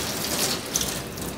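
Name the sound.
rinsing metal plate with tap water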